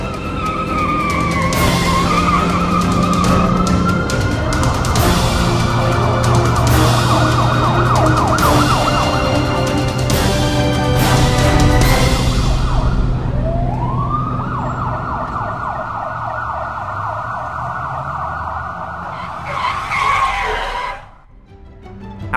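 A loud wailing ambulance siren in a 3D animated cartoon rises and falls close by over traffic noise, then shifts to a steady tone before cutting out.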